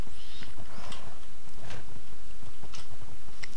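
Horse hooves clip-clopping in the Minecraft video game, a loud, steady run of hoof clops mixed with bright game effects and no talking.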